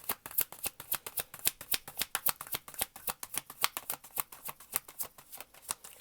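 Tarot cards being shuffled in quick, crisp riffling bursts, a steady rapid run of papery flicks close up with no talking.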